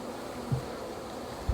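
Honeybees and many drones hum steadily inside a crowded beehive in southern Alabama in February, a faint continuous buzz with a couple of brief low thumps.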